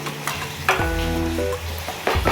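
Spicy pepper chicken frying in a pan, stirred and mixed, giving a continuous close sizzle with soft scraping strokes, while a low steady tonal hum sits underneath through the middle.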